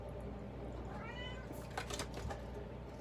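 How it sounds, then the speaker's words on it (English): A pet cat meows softly indoors, making one drawn-out call and then a few fainter murmurs over a steady low background hum. "My cat is wanting to say hello to you, Leo."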